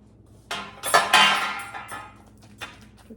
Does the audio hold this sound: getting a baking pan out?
yes